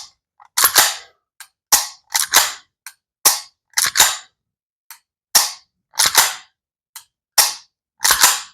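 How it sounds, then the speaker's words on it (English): Sharp dry-fire clicks from a CZ Shadow pistol trigger during a function check, about a dozen crisp, close snaps in an irregular rhythm, some doubled, with silence between and no talking. "On safe, shouldn't fire. On fire, pin the trigger to the rear."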